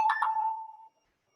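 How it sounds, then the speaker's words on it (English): A phone chimes once with a short two-note text message alert, loud and close, its tone ringing out and fading away after under a second. "Somebody's texting me."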